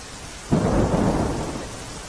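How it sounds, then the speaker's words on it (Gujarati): A thunderclap booms and rolls out over steady rain during a downpour in Surat, with no voices. "શૈલેષ, જણાવશો કે સુરતમાં વરસાદના પગલે અમુક એવા પણ વિસ્તારો છે કે જ્યાં ઢીચણસમા પાણી ભરાયા છે।"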